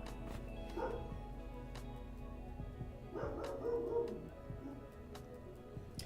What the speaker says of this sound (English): If you hear a dog barking in the background, that is not my dog.